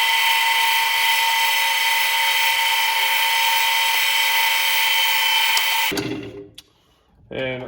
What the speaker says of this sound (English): So what I do is I lock my drill press down so I know my first hole is gonna be perfect.